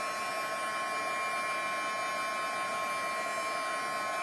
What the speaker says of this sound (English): I'm gonna grab my heat tool for a sec and just dry all of that.